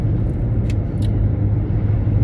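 A truck rumbles nearby on the road with a heavy, steady low engine drone, joined by a couple of short hissy bursts like a brake release, continuous and without voices.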